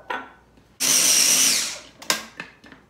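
A food processor grinds pesto with added oil, starting with a short whir, then a loud, close sustained burst of about three quarters of a second, followed by a few brief pulses.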